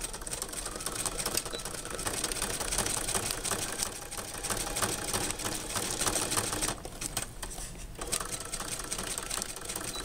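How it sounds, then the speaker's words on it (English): A sewing machine stitches a seam along the bottom of a party favor bag sewn from Capri Sun juice pouches, running steadily and closely for most of the stretch with one brief pause before resuming. "So put it under your machine and sew that down"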